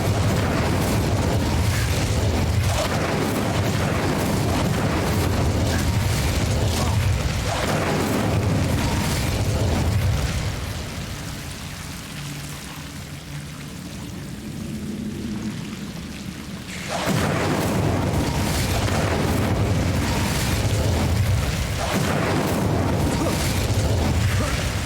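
A sustained roaring whoosh of the Incendio fire spell in Hogwarts Legacy, loud and dense for most of the stretch, dipping briefly in the middle before surging back.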